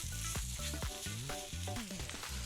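Ground meat with taco seasoning sizzles steadily in a pan, a close, continuous crackle with faint stirring and tonal bits of music or background sound layered over it.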